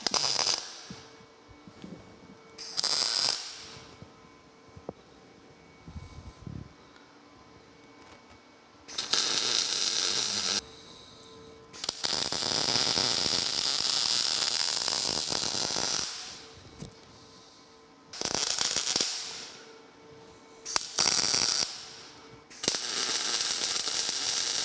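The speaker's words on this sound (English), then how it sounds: "I'm just gonna hold these in place and weld them in" Side guide brackets are welded onto steel tubing for a gantry crane beam, giving several bursts of loud, steady crackling and hissing arc noise that start and stop with quiet gaps between them.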